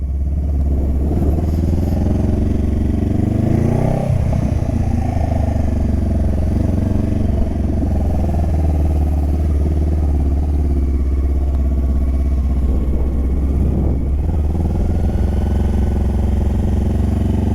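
A motorcycle engine revs loud and close while being ridden, its throttle rising and falling through several swells with a constant rumbling drone and clattering mechanical texture throughout.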